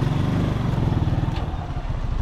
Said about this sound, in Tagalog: Ay dinig ko yung motor.